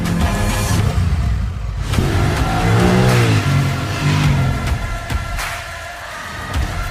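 A 2021 Honda Rebel 1100 cruiser motorcycle with an engine of over 90 horsepower accelerates hard, its loud exhaust note climbing in pitch through a rev sweep, dipping and rising again as it shifts, with no voices.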